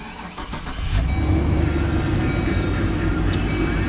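A 2004 Chevrolet Express 3500 cargo van engine cranks briefly and catches, then settles into a steady, loud low idle rumble close by, with no talking.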